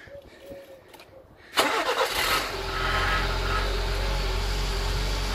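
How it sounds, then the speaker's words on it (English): A Nissan Micra K11 fitted with a homemade air intake and standard exhaust cranks and fires up after a quiet moment, then settles into a steady, close idle. "any noise is literally just going to be the air intake."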